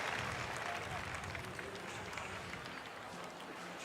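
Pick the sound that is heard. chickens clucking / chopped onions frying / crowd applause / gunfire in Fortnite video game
crowd applause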